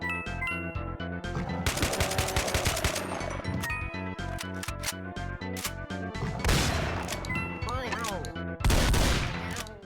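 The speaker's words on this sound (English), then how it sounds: "a few things are quite as satisfying as double tapping a shot guy from across the room with a shotgun" Loud, rapid shotgun blasts in the first-person shooter Doom, with repeated sharp booms over a continuous game soundtrack, the blasts coming close together in a dense stream.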